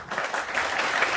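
A studio audience at a televised political debate on a plebiscite claps together, a dense steady burst of applause held at an even level throughout.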